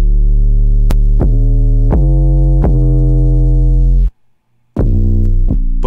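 Distorted 808 bass notes from the HY-LOFI lo-fi plugin, loud and sustained with a rich harmonic buzz, struck in a steady run of repeated hits, then a brief full stop of silence before the thick bass resumes.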